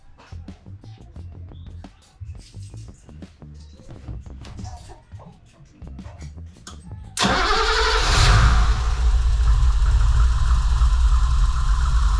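A motor with a recently near-failed gearbox is cranked and catches, settling into a loud, steady running idle that holds to the end, after a stretch of quieter mechanical clatter and handling noises.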